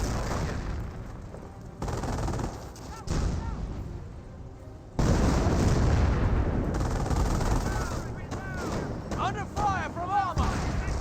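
Gunfire and artillery from the Company of Heroes real-time strategy game rattle in bursts of shots and booms, moderately loud, with sharp cuts between busy passages and scattered high whistles near the end.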